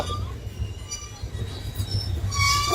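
Udyan Express passenger train running through Akkalkot Road railway station in Maharashtra, with a steady low rumble of wheels and rail clatter and faint high squealing that swells toward the end, heard from on board, no talk.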